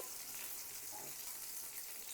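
Pieces of rohu fish fry in hot oil, giving a faint, steady sizzle that continues without break over about two seconds.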